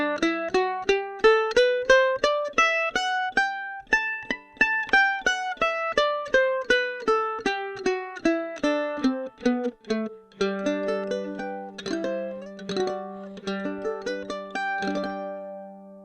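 Mandolin picked through a Schertler DYN-M P48 microphone with no effects, first a run of separate plucked notes sweeping up and back down, then fast tremolo strumming on sustained chords, close and alone.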